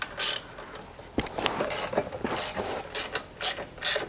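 A hand ratchet clicks in quick bursts as it loosens a bolt on a Honda Ruckus scooter motor, close-up and fairly loud, with uneven pauses between strokes.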